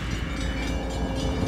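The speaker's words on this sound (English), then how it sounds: "and there's a train coming." A train rolling past close by, a loud, continuous, steady rumble with no talking.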